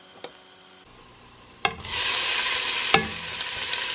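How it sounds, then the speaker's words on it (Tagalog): Shrimp cooking in a pan: after a few quiet clicks a loud sizzle bursts in and holds steady, broken by sharp utensil knocks, close and without talk. "So, niluto ko muna yung shrimp."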